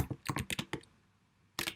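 Quick taps on a computer keyboard as a short command is typed, a close cluster of crisp clicks followed by a pause and one final keystroke.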